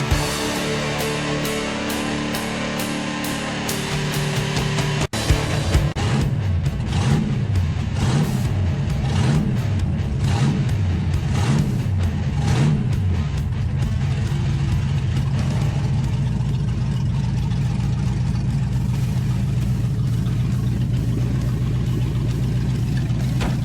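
Engine of a 1966 Dodge Dart GT, loud and close, starting up and then revving in repeated rises and falls before settling into a steady drone as the car drives off.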